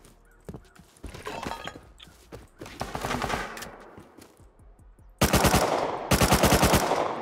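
Gunfire in the survival game Rust during a base raid: scattered shots and short bursts at first, then two loud, rapid automatic bursts near the end, with no talk over them.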